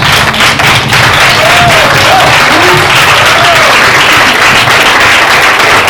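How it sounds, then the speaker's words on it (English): Loud, sustained applause from a conference audience at a women's day event, dense clapping filling the whole stretch with a few voices calling out faintly underneath. "I think we all need to stand up and give a huge round of applause to Ali Meehan."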